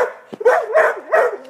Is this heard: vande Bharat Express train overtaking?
no